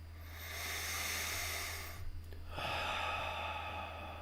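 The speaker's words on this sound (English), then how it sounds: "Just focusing on my breathing" Slow, close breathing: a long drawn inhale, a brief pause, then a steady exhale, with a low background hum and no talk.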